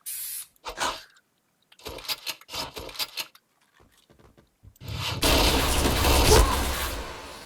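Video game shooter gunfire: a few scattered sharp shots early, then a loud, sustained spray of rapid automatic fire toward a spot behind a wall, dense and continuous to the end.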